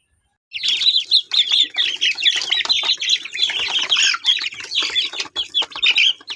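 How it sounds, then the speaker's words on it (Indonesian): KUB 2 native chickens, a first hatch, kept in a bamboo coop, give busy high chirps and clucks that overlap in a loud, continuous chorus close by, with no talking. "Ini ayam KUB 2 yang saya budidayakan, dan ini hasil penetasan pertama"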